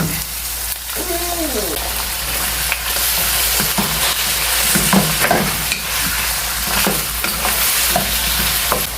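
Ground beef and garlic fry in a pan with a loud, continuous sizzle and repeated scraping stir strokes, while a voice briefly speaks over it.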